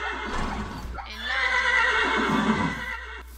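A horse from the Minecraft Mo'Creatures mod lets out a loud, drawn-out whinny that lasts several seconds. It is close and clear, with no talking over it.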